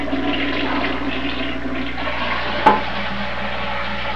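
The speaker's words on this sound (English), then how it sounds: "toilet has probably been flushed about 16 billion times" A toilet flushes in one rushing burst of water that drains away, heard close and alone, with a short knock partway through.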